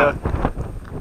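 Gusty wind buffets the microphone outdoors at Texas Canyon, a loud low rumble with uneven surges over about a second.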